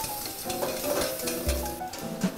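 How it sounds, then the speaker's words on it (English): Italian sausage and onion fry on a stovetop for pappardelle sauce, with a steady close sizzle and clatter as the pan is stirred, a few sharper knocks from the utensil, and no talking. "We're just gonna cook the sausage out so get a bit more color"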